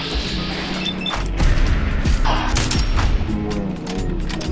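Gunfire aimed at an aircraft in Fallout 4 pounds out as loud, rapid, overlapping shots and heavy impacts over a low mechanical rumble, with no one speaking.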